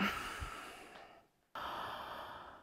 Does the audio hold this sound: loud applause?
no